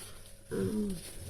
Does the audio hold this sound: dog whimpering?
yes